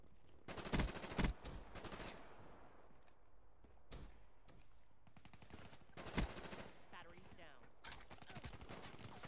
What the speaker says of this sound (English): the guy was firing all the time